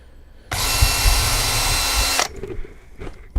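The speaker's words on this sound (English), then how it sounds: "Just put screws about every foot like that, or 30 centimetres," A power drill drives a screw into model railway track on a layout, one loud continuous whirring burst lasting under two seconds, close by, followed by quieter handling clatter.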